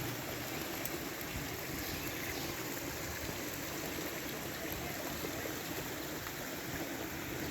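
Steady, faint rushing of a flowing river in the Texas Hill Country, an even wash of water noise with no breaks or voices.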